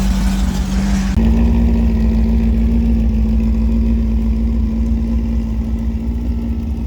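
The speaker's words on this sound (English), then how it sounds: "This is the last time we're gonna hear this car run." A car engine running, loud and close, briefly revving before settling into a steady, even idle hum that continues unbroken.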